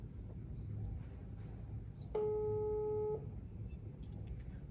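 A single phone dialing tone sounds for about a second in a quiet room, a clear steady electronic beep standing out against low background hum.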